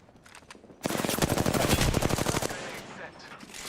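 Rapid automatic gunfire in Apex Legends, a loud dense burst of shots lasting a couple of seconds before tapering into fainter noise, with quieter scattered shots before it.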